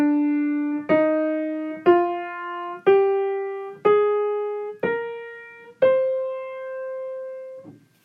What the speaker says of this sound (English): Now the natural minor sounds like this.